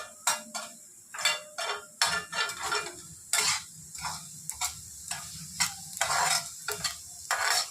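Repeated scraping and clattering of a spatula stirring dry red chilies roasting in a metal pan, in uneven bursts with a faint sizzle underneath and no speech.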